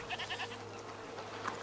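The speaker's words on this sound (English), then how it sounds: "You're a nice goat, Lucinda" A goat in the video game A Plague Tale: Requiem gives a faint bleat or two over a low steady background hum, with no one speaking during the sound.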